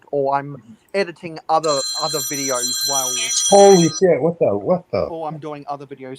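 A phone-like ringtone rings over and over, with steady bright tones lasting a few seconds, heard during a Lego live stream while a person keeps talking over it.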